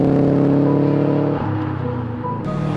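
A 1999 Subaru Impreza STI 22B driving past, its engine a loud, steady, close drone that dips briefly midway and then resumes, no voices.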